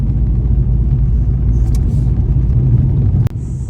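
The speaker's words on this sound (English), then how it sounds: "following an ice road trucker in a BMW 3 Series diesel imported from the UK" A BMW 3 Series diesel imported from the UK, driving an ice road at minus 20 behind a truck: a loud, steady low rumble of engine and tyres from inside the car, with a brief clunk near the end.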